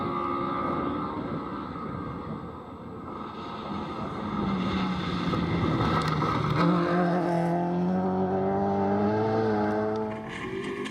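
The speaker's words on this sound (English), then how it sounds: "the new engine sounding fantastic" Two-wheel drive rally car with a new engine on a stage of the Speyside Stages, engine note rising and falling through gear changes as it passes, fairly close and steady, with wind noise.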